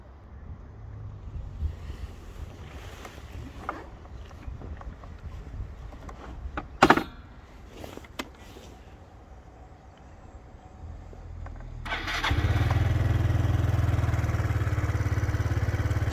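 A 2011 Yamaha BWS 125cc scooter is started after some shuffling and clicks, its engine catching near the end and settling into a steady, close idle.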